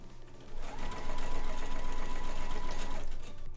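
A sewing machine runs steadily for a few seconds as it stitches box or knife pleats into fabric, a close, continuous mechanical whir that builds after a brief start and holds without talk.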